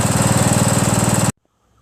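A Craftsman LT1000 lawn tractor with a 15.5 HP Briggs & Stratton engine idles at low throttle, a loud, steady, rapid chugging throb held close for over a second before cutting off abruptly into silence.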